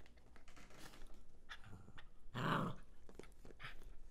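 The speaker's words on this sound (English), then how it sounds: "He's barking at her, not this toy, I swear." A pet dog indoors gives one short, loud bark midway, among quieter rustling and faint movement sounds in a room.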